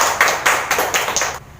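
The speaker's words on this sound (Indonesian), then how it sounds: "semua beri tepuk tangannya dulu" A classroom group applauds briefly, a quick burst of light, scattered hand claps lasting about a second and a half before cutting off.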